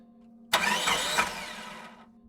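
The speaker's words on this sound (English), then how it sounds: "tried the ignition again and again. Nothing." A van's engine cranks as the ignition is tried on a dark mountain road, a loud burst of starter churning and rough engine noise that sustains for over a second, then fades out over a steady low hum.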